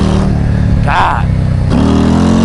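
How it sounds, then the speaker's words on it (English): A Harley-Davidson Road Glide ST with a Screamin' Eagle 135 engine accelerating hard into a power wheelie, loud low engine roar rising in pitch, with a voice over it. "This thing power wheelies."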